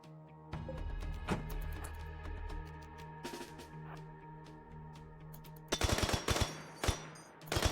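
Rapid bursts of gunfire crackle in a Rimworld colony skirmish, with a shotgun among the weapons, layered over steady game music and ending in a denser cluster of sharp shots.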